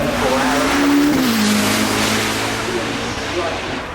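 A Le Mans hypercar racing up the Goodwood Festival of Speed hillclimb, its engine holding a high, steady note that drops in pitch as it shifts, loud and close amid crowd noise, with commentary talking over it.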